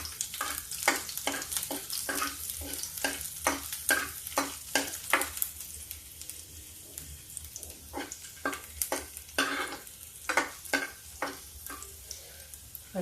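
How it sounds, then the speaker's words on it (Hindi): Garlic fries for a tadka in hot oil, sizzling steadily while a utensil scrapes and taps the pan in quick repeated strokes, pausing midway before stirring resumes. "देखिए गैस को हम स्लो कर देते हैं और डालते हैं ये तड़का। ये देखिए सबसे पहले हम डालेंगे लहसुन।"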